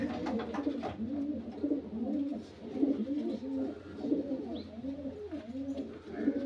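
Pigeons in a loft coo continuously at close range, their deep rolling calls overlapping in a steady, layered murmur.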